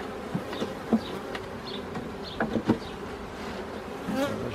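Honey bees buzz around a brood frame lifted from a hive during queen rearing, a continuous dense hum with close individual bees flitting past and a few soft knocks of handling.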